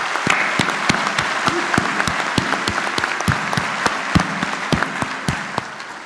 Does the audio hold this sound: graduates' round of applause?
yes